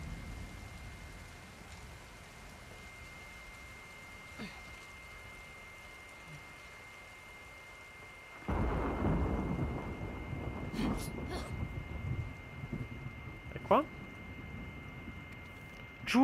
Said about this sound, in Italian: Sentite i tuoni. Il fragore di questi tuoni.